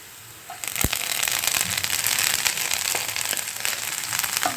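Chopped spinach tipped into a pan of hot oil with fried chillies bursts into loud, close crackling and sizzling that starts abruptly and keeps spattering steadily, with no voices.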